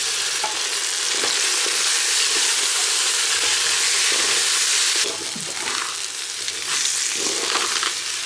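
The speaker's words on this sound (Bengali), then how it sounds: "সয়াবিন তেল দুইটা নতুন আলু দেব ঝটপট রান্না করব" Two new potatoes fry in hot soybean oil, giving a dense, continuous sizzle with crackling bursts and brief surges of spattering, close and loud, with no voices.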